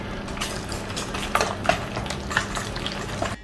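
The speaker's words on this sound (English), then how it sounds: "Let's give this a nice mix." Banana bread batter is stirred after an egg is added, giving soft wet scraping and a few light clinks of a utensil against the bowl, close and without voices.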